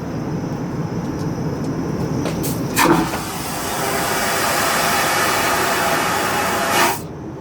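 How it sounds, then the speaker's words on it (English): Vacuum toilet flushes aboard an airplane in flight: a sharp whoosh bursts out over the constant loud cabin engine roar, followed by a second short suction near the end. "So yeah, we're gonna flush it."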